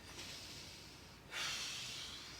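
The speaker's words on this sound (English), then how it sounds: "Just working to breathe nice and deep in the nose," Deep breathing during an at-home hip alignment exercise, a slow breath in through the nose followed by a louder, airy exhale, close and clear.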